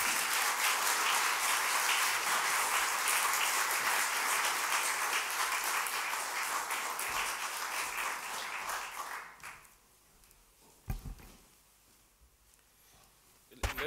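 A packed audience at an inaugural professorial lecture claps loudly and evenly for several seconds, then the applause thins and dies away, leaving a quieter room with a few scattered sounds and a faint voice.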